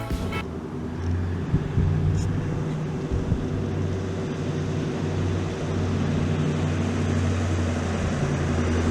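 A 1929 Ford hot rod custom cruises along with a steady low engine rumble and road noise, loud and continuous, heard from on board throughout.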